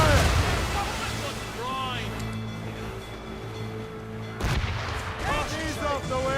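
Ship cannons fire broadsides in the video game Assassin's Creed Rogue, two heavy booming volleys a few seconds apart, with crew voices shouting and a rumble of sea and ship in the background.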